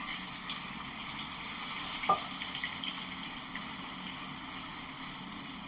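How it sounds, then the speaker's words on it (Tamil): Prawns and curry leaves frying in hot oil, a continuous even sizzle and crackle up close, with one brief sharper clink near the middle and no speech. "நான் கொஞ்சம் கொஞ்சமாக போட்டு வறுத்து வச்சுக்கிறேன்"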